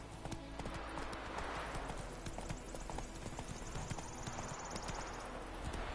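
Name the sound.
hooves of Geralt's horse Roach, Witcher 3 video game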